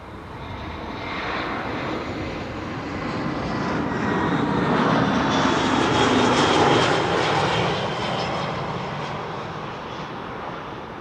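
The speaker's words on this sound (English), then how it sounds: "It's an A320." An 11-year-old Airbus A320 airliner, first flown in December 2014, roars past at Amsterdam Schiphol Airport, its engines rising to a loud broad rumble and whine that peaks mid-clip and slowly fades while staying strong.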